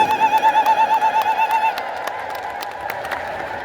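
A congregation ululates during a Marian hymn of the Ethiopian Orthodox liturgy in church: a loud, rapidly warbling high trill pulses for under two seconds, then gives way to a diffuse murmur of crowd noise.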